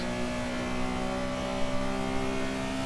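A steady, droning historic rear-engined Porsche 911 engine in the racing game Assetto Corsa hums continuously at high revs, loud and close, with no voices.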